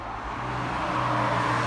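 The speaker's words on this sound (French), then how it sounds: "Par contre il y a une Porsche 911 là." A Porsche 911 driving past on a scenic coastal road in northern France, a brief, steady engine rumble that swells slightly as it approaches, fairly close with no talking.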